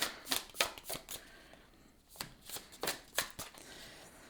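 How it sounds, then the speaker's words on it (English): A deck of oracle cards shuffled by hand nearby, a run of crisp, rhythmic flicks and slaps in two short bursts with a brief pause between, no voices. "What does this group need to hear most today from this deck?"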